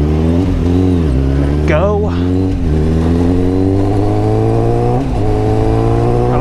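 Motorcycle engine on a night ride through busy streets, droning steadily close up and rising in pitch as it accelerates, with a rider talking over it throughout.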